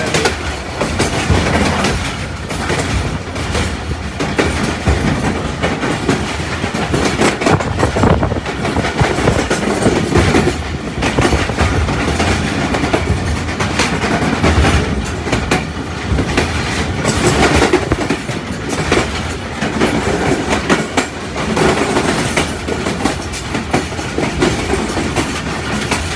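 The 246dn Malkwal Express passenger train in Pakistan, heard from on board in the early morning, rumbles loud and continuous with rhythmic clickety-clack of wheels over rail joints and an occasional squeal.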